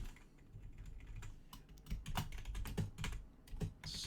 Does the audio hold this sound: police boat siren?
no